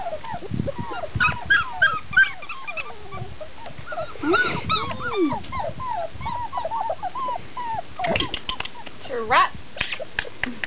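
Young puppies whimpering, yelping and yipping in a rapid, overlapping chorus of high-pitched cries, close by and fairly loud, with a person's voice briefly heard among them.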